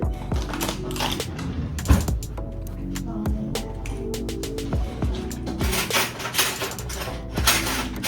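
Old styrofoam cut in half with a butter knife, a close run of squeaky crunches and sharp cracks with faint background noise.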